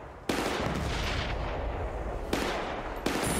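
Gunfire in Battlefield: Bad Company, a loud close burst of rapid shots with sharp attacks starting a steady roar of fire, then two more sharp bursts near the end.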